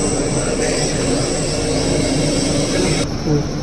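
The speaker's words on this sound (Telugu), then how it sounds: "అక్కడ మోటార్ తిరుగుతుంది." Steady close drone of a three-phase electric motor running on a variable drive in an electrical workshop, a continuous broadband whir with a constant tonal hum that stays level throughout, with a voice briefly audible over it.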